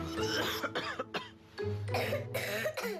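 Several harsh coughs come in quick bursts, close and fairly loud, with short pauses between them.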